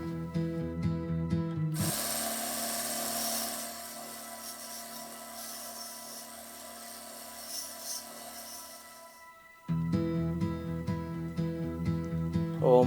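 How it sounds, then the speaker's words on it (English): A 1.5 mm brass Coleman generator needle being ground, a steady close, mid-loud abrasive grinding that runs unbroken for about eight seconds between stretches of other noise. "Now let's start grinding."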